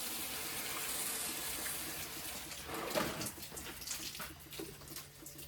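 Water runs and splashes steadily onto garden plants for several seconds, a continuous gushing hiss with small fluctuations, close by and moderately quiet.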